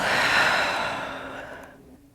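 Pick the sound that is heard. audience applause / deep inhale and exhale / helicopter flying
deep inhale and exhale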